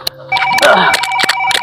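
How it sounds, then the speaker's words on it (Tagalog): A cellphone rings loudly with a repeating electronic ringtone of bright, sustained tones, while people talk over it up close. "May tumatawag yung cellphone ko."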